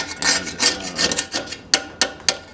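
Dried adhesive and ink being scraped off the edge of an old screen printing frame, a series of close raspy strokes, several longer drags followed by three short sharp scrapes.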